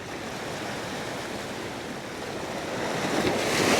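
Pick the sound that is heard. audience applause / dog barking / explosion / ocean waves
ocean waves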